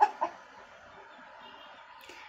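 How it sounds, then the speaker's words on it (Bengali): A desi hen clucks twice in quick succession right at the start, close and fairly clear, then gives way to a low, steady background hiss. "এই যে একটা দেশি মুরগি"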